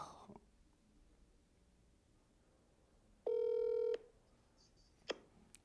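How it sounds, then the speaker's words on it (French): A telephone being dialed: quiet room tone, then one loud steady tone lasting under a second, followed by a brief second beep, with no one speaking. "Je pense qu'on va passer l'appel."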